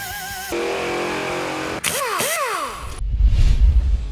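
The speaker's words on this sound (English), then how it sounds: "Our Mopar has 550 horsepower coming from its 408 cubic inch stroker, making it a very aggressive sounding engine." Mopar 408 cubic inch stroker V8 making 550 horsepower, fitted with a Flowmaster muffler, rumbling loud and close, with pitch swoops from quick revs and then a deep, rough burble at the end.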